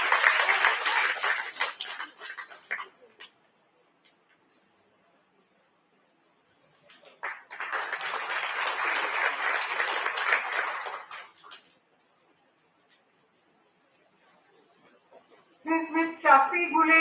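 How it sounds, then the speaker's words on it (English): An audience applauds prize winners at a foundation day ceremony, with two long bursts of crowd clapping separated by a quiet gap, and a voice speaking at the end. "A huge round of applause for the winners."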